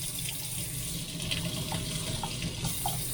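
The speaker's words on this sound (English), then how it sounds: "Turned on the hot water" Hot water runs from a tap in a travel trailer, a steady, close rushing and splashing flow with no voices.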